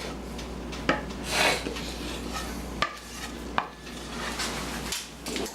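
Cake mix for a pink lemonade cake being divided between two greased baking pans; scraping and rubbing of a utensil against bowl and pan, broken by a few sharp clinks and knocks, close.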